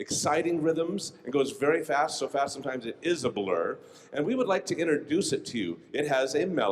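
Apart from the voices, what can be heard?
No everyday noises stand out.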